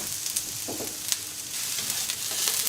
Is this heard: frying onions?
yes